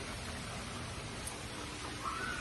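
Steady soft rain falling outside on a wet day in America, a quiet even patter heard from indoors, faint and continuous with no voices.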